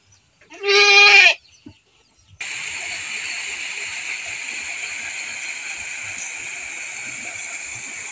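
A goat in a pen of sacrificial goats lets out one loud, close bleat, followed after a short pause by a steady rushing, water-like hiss.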